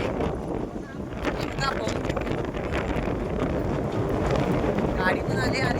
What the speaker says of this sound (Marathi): एवढा वारा आहे का असं